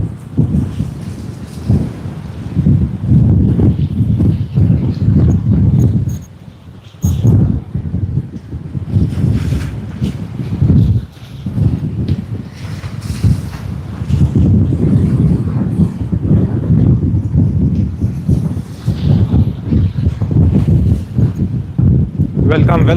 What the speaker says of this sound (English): And the wind is picking up again. It's just getting worse once again.